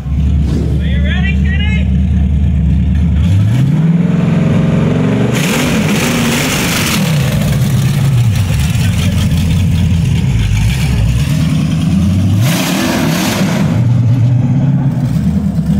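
A tiny Isetta microcar fitted with a V8 engine revs hard under throttle, its deep rumble rising and falling in repeated surges, with people talking over the noise throughout.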